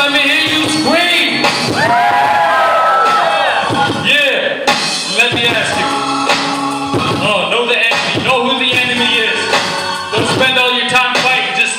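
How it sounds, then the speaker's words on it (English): A loud church congregation screaming, whooping and cheering all at once, continuous and energetic, with shouted voices rising over the roar. "If you love Jesus, let me hear you scream"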